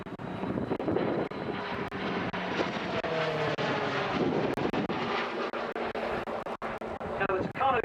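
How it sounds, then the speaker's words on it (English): A Tucano basic training aircraft flies aerobatics at an air show, its propeller engine droning steadily and loudly throughout, with wind buffeting the microphone and a commentator talking over it. "Dave Kirby, known as Curbs to his mates, first of all starts by pulling the Tucano into a half horizontal lane."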